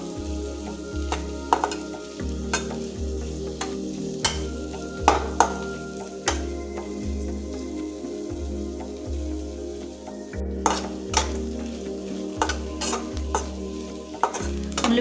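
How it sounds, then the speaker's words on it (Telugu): Green chillies, garlic and curry leaves sizzle in hot oil in a pan, a steady crackle under a regular rhythm of metal spoon scrapes and stirs, with occasional sharper clinks against the pan. "ఇవన్నీ కూడా మంచిగా వేగేంత వరకు కూడా వేపుకుంటాం."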